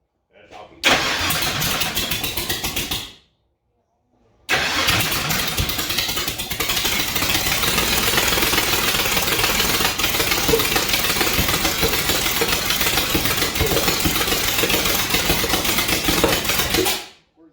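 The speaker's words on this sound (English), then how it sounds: "That's a blower surge." A supercharged 1000 HP small-block Chevy in a front-engine dragster fires up loud and close, running with a rough, steady roar that cuts out briefly and then restarts.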